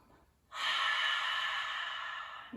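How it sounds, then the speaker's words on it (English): Forceful open-mouth exhale in yogic pranayama breathing, like fogging a mirror: a single long, breathy hiss starting after a brief pause and sustained steadily for about two seconds, close and clear with no talking. "exhale like you're trying to fog up a mirror"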